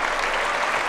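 Warm applause from a French crowd at a 2014 mixed doubles badminton semifinal, a brief, dense burst of steady clapping filling the hall.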